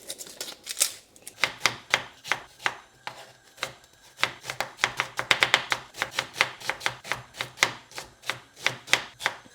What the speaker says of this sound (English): Just going to roughly get this chopped